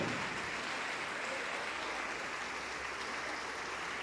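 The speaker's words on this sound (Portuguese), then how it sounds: "Vamos aplaudir mais, igreja, vamos aplaudir mais." A church congregation applauds during a sermon, a steady, faint wash of many hands clapping heard from a distance, continuous and even throughout.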